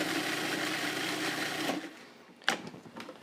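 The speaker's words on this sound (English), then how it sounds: "Now we're gonna just chop that up again." Honey herb salad dressing ingredients, seasoned with salt and cracked pepper, being chopped in a food processor or blender: a steady loud motor whir that stops partway, followed by a short clatter and faint handling noises.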